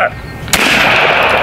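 A high-powered airgun fires at a target range, a single sharp loud crack followed by a sustained bright hiss and ringing.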